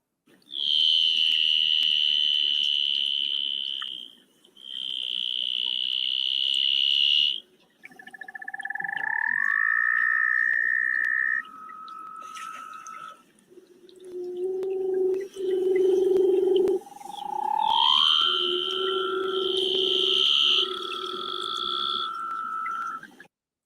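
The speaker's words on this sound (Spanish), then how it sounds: "una foca leopardo" A leopard seal vocalizes in a recording of marine mammal sounds: long sustained tonal calls, some high and steady, others gliding upward or held low. The calls come one after another, loud and clear, with short gaps between them.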